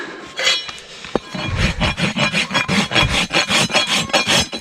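A rasp files a horse's hoof wall during a hoof restoration, a rapid series of close, gritty strokes in an even back-and-forth rhythm after a brief clink.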